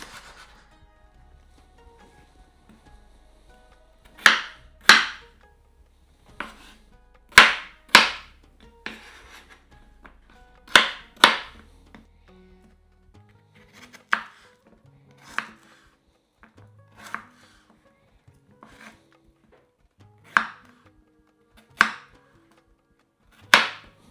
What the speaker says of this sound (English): I'm just gonna cut it in like big chunky pieces.